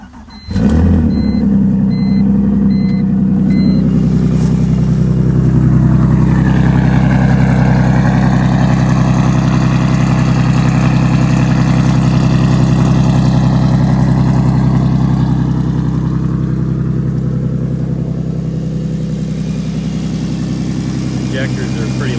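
A turbocharged BMW E46 with a 3-inch straight-pipe exhaust and loud injectors idles steadily after a cold start, a close, loud, even drone that holds level for the whole stretch after firing up.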